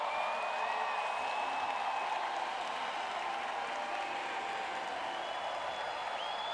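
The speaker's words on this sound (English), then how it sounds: "everybody on their feet applauding two of the greats of para swimming" Audience on its feet applauding at the Rio 2016 Paralympic swimming pool for retiring para swimmers Clodoaldo Silva and Sebastian Rodriguez, a steady, dense wash of clapping and crowd noise that fills the venue throughout, with faint whistles above it.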